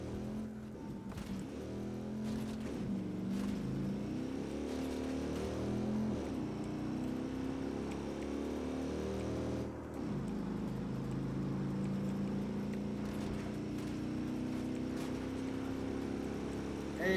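A car engine from the Watch Dogs 2 video game drones steadily as the vehicle is driven, with pitch shifts from acceleration and a brief dip partway through, heard alone without talk.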